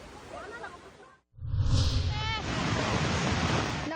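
Loud, steady roar of rushing river floodwater in Sarangani, Philippines, fills the scene after a brief drop, with a faint voice near the start and a short siren-like wail.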